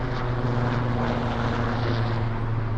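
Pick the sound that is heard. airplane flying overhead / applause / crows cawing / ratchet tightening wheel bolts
airplane flying overhead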